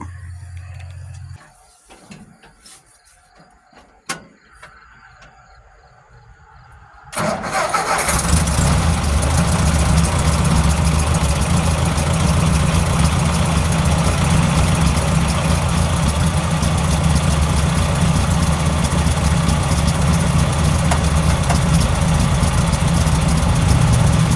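After several seconds of quiet with a few faint clicks, a tractor engine cranks and catches, then settles into a loud, steady rumbling idle.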